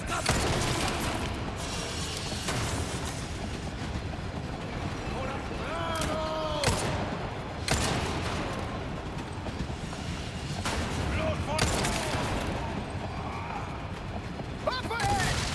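In Resident Evil 4, guns fire repeatedly at wooden boards during a rattling mine-cart ride. Shots crack over constant rumbling and clanking, with occasional voices mixed in.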